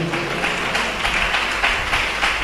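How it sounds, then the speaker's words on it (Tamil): A church congregation at a Tamil Christian service claps together in a loud, rhythmic, sustained burst of many hands. "கைதட்டுக்க பார்க்கலாம்"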